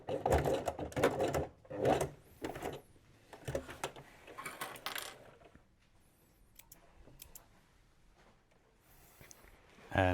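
A sewing machine runs along a denim workwear jacket seam in several short, loud bursts of fast needle chatter, separated by pauses and quieter handling, with one last burst at the very end.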